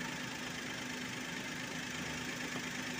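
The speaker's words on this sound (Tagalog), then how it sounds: "Ulandar na yung makina." A 2010 Suzuki Celerio engine idles steadily after a top overhaul, a continuous close mid-pitched running drone with a faint tick, no talk over it.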